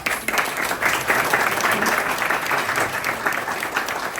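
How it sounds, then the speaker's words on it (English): Audience at an awards luncheon for a Broadway event breaks into sustained applause, a dense, loud crowd of clapping hands that holds steady with no voices on top. "Let's give them a round of applause."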